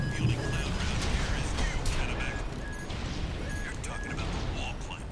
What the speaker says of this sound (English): That is some loud ass thunder.